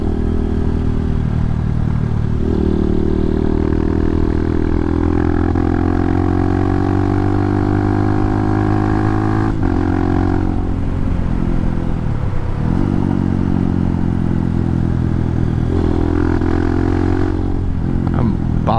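Racing motorcycles at the Isle of Man TT roar through street corners, engines howling loudly and continuously as their pitch climbs and drops with throttle, gear changes and passing bikes.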